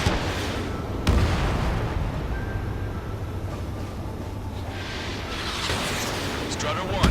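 Gunfire and explosions rumble through an Ace Combat 7 aerial battle over a lost kingdom, a continuous dense roar with a sharp blast near the start and more bursts toward the end, loud and sustained.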